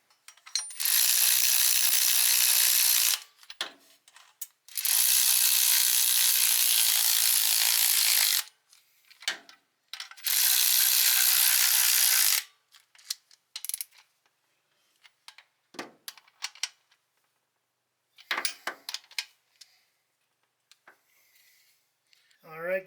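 Bursts of rapid ratchet clicking while an alternator bracket is bolted onto a Volvo 140 engine, three long loud runs followed by scattered short clicks and taps, close and without talking.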